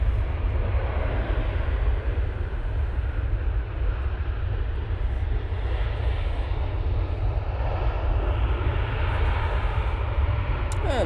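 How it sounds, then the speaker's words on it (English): Qatar Boeing 787-9 Dreamliner coming in to land, a sustained, even jet roar at moderate distance that stays steady through the whole stretch, without speech. "there's a beautiful 787-9 Dreamliner coming in from Qatar"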